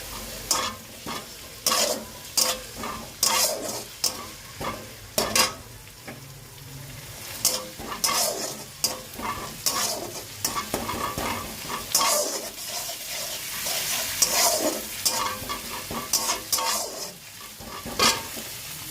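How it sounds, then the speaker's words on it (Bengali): Onions fry in a pan with grated onion added, stirred steadily. A soft sizzle runs underneath while a spoon repeatedly scrapes and clinks against the pan in quick, regular strokes, close and moderately loud. "পেঁয়াজটা এবার সামান্য লাল হয়ে গেছে, এরপরে দিয়ে দেবো পেঁয়াজ বাটা।"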